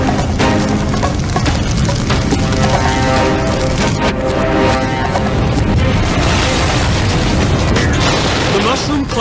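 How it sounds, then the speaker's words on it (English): A huge roaring blast from an exploding tank car of highly flammable liquid gas rumbles on continuously, dense and loud, with sustained crackling and booming throughout. "another explosion of the highly flammable liquid gas"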